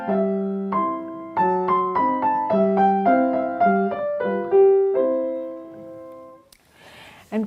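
A little Schubert piece plays on piano, with evenly articulated close notes over a repeating bass pattern, then fades as the last chord rings out, followed by a brief noise.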